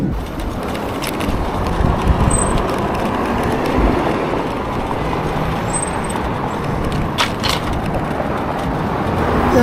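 Busy city street traffic passing steadily around a compact folding e-bike, a Windone S16, with a continuous broadband roar of cars and larger vehicles close by and no talk.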